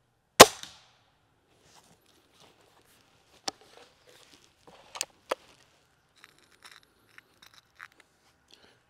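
A single sharp, loud crack from a Gamo Shadow IGT 24-joule air rifle, heard alone and followed by faint mechanical clicks and handling noises.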